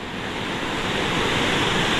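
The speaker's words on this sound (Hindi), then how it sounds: "पानी की आवाज़ सुनो एक बार" Roaring river floodwater after a cloudburst in Dehradun, a loud, steady broadband rush that fills the whole stretch without a break, close and overwhelming, with no voices over it.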